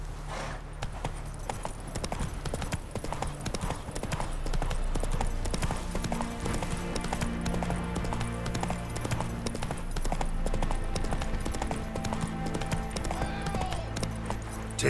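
Roach, the horse in The Witcher 3: Wild Hunt, trots with a continuous rhythmic clip-clop of hooves, close and steady, layered over game music for the whole stretch.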